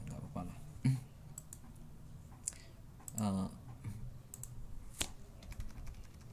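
Computer keyboard keys pressed for a copy and paste shortcut, a few scattered clicks and taps close by while someone talks throughout.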